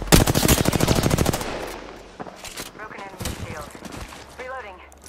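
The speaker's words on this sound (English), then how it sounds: "They're shooting at me." Automatic weapon fire in the video game Apex Legends: a loud, rapid burst of machine-gun shots for over a second, then scattered shots and game sounds with a voice talking over them.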